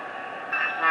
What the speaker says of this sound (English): In a few seconds, this train will take off.